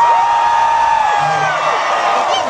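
At a hip hop freestyle battle, a crowd cheers and whoops loudly and continuously, a dense wall of shouting voices that fills the whole brief moment.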